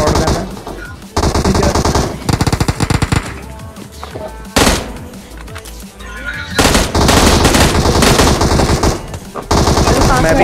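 Loud, sustained automatic gunfire from the battle-royale video game PUBG hammers in long rapid bursts, broken by brief pauses before the firing resumes at full intensity.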